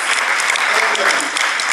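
Applause from an audience at a press conference: a dense, steady patter of many hands clapping together, loud and close, filling the whole moment without a break.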